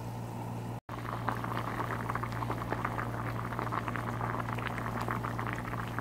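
Water churns at a rolling boil in a pot for potato ramen, a steady close bubbling and hissing that continues without a break apart from a split-second dropout near the start, with no voices.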